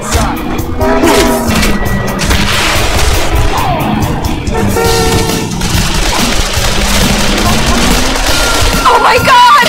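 A bomb goes off in the video game Call of Juarez: The Cartel, heavy booms and crashing debris rumbling continuously under loud chaotic action and background noise.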